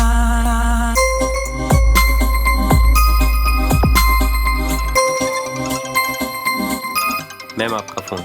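A mobile phone rings with a bright, jingling melodic tone that repeats in short phrases, loud and close, while deep booming thuds and other sounds play beneath it in a Hindi-dubbed South Indian romantic action film.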